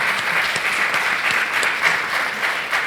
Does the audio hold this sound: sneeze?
no